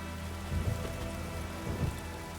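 Steady rain pouring down in The Witcher 3: Wild Hunt in a continuous wash, with a faint low rumble and a couple of soft thumps underneath.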